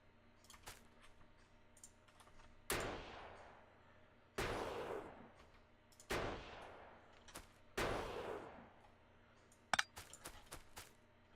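Sniper turret in the Factorio video game firing a handful of sharp, separated shots at irregular intervals, each with a short fading tail, over a quiet low mechanical hum with faint clicks between.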